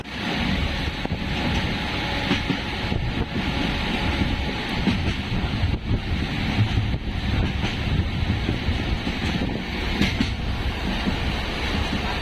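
A steady, loud rumble of a train rolling along the tracks, with continuous clatter and wind-like noise throughout and no voices.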